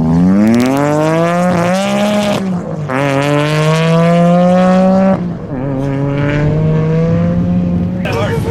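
A V6 Honda Civic race car accelerates hard down a half-mile strip, its loud engine note climbing through three gear changes and then holding high, close and dominant, with voices underneath.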